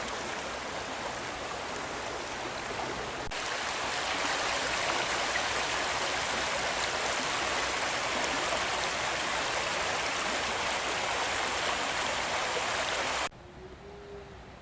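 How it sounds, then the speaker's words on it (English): Parsons Creek flows through a large park ravine in a steady, loud rushing wash of water that holds constant and then drops away abruptly near the end. "Parsons Creek carves a large ravine through the park and harbors some naturally reproducing brook"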